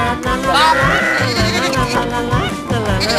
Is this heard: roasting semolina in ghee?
no